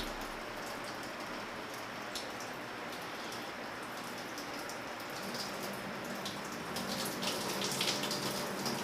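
Water pouring in a full stream and splashing onto a surface, a steady hissing spatter that grows slightly louder toward the end, with no talking.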